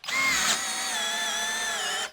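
A cordless drill set to clutch 9 and speed 2 spins up sharply, holds a loud, steady high whine for about two seconds, then cuts off.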